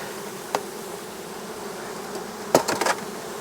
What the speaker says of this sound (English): So I need to cover these bees up